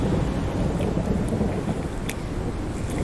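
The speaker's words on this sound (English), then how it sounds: "This is one storm" A thunderstorm in the Conan Exiles video game: steady heavy rain with a low rumbling roll of thunder throughout, loud and without talk.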